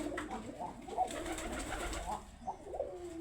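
Pigeons coo softly nearby on a pigeon farm, a few low throaty calls in quick succession against a quiet background hiss.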